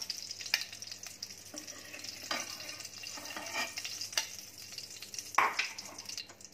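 Eggs fry in oil in a pan on low gas heat while being stirred for a Bengali egg curry, a soft continuous sizzle broken by occasional scraping and clinking of the spoon, close and fairly quiet.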